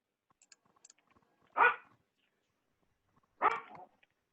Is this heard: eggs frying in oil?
no